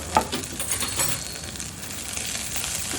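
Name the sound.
grated ginger and chopped garlic sizzling in oil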